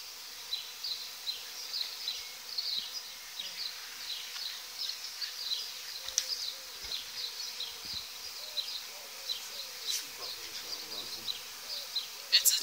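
A captured swarm of honeybees hums in a steady low drone all the way through, with single insects buzzing close by now and then and faint talk in the background.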